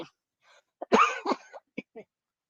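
A person's cough, a short cluster of harsh bursts around the one-second mark, followed by a few fainter throat sounds and small breaths, close and alone with no talk.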